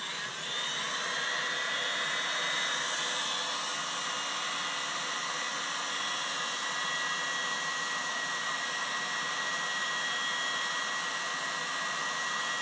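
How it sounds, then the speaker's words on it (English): An electric heat gun, a modest non-industrial unit, blows steadily and loudly as it softens paint on a wooden boat, a constant whooshing fan-and-air roar with no pauses and no talk. "It's not an industrial heat gun by any means, but it does the job. It's a little noisy"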